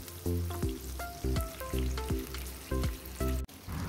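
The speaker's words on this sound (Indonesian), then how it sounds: "Kemudian tahunya aku goreng kotak-kotak kecil seperti ini." Small cubes of tofu frying in oil, with a steady sizzle and a run of clinks and scrapes as the pieces are stirred in the pan, fairly close and moderately quiet.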